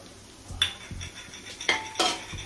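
Onion, garlic and paneer stirred in a pan while cooking garlic paneer with butter: a few distinct metal utensil scrapes and clinks against the pan over a soft background sizzle, with no talking.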